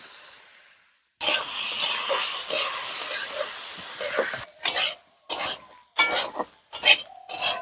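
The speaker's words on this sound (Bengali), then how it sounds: "গাজর আর আলু তাই ভাজা হয়ে গেছে আর একটুক্ষণ ভাজলে পরেই হয়ে যাবে" Carrots and potatoes frying in a pan for a village-style Bengali meal, a broad steady sizzle that runs for a few seconds, then breaks into short bursts of hiss separated by quiet gaps.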